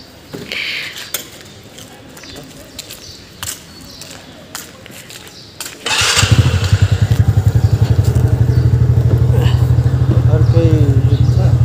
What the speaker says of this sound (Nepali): नयाँ स्कुटर छ त हजुर